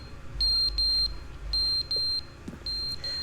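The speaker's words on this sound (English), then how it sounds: "That thing is beeping." A clock in the video game The Stanley Parable: Ultra Deluxe beeps loudly in paired bursts, repeating in a steady rhythm with brief gaps, close and alone without speech.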